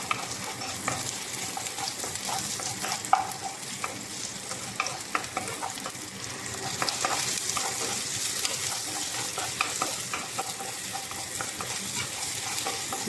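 Red onions sautéing with crushed garlic in a hot pan, a steady dense sizzle with frequent stirring clatter and scraping throughout, fairly close and continuous with no talking.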